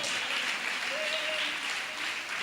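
A congregation claps in praise at a large Christian church convention in Andhra Pradesh, a dense, steady wash of applause across the whole stretch with a faint voice or tone rising briefly in the middle.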